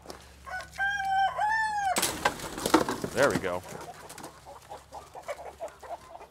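A rooster crows loudly and close by, followed by a flurry of chicken clucking and squawking, while a person speaks briefly over the birds.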